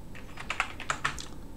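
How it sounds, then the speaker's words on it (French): Rapid typing on a French QWERTY computer keyboard, a quick run of crisp, close key clicks of uneven rhythm with no talking. "Et maintenant, on tape Setup."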